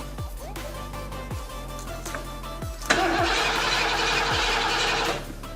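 The starter of a Ford Foxbody Mustang sounds while it is stuck on: about five slow, rhythmic cranking strokes, then a loud, harsh whine and grind lasting a couple of seconds before it drops off.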